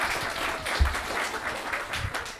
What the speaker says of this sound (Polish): brawa dla tej pary